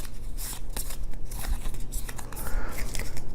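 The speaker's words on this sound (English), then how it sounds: "So they'll flip a new card." Cards being flipped and shuffled during a Trapper Keeper board game, a run of soft papery snaps and slides close by over a low steady hum, with no talking.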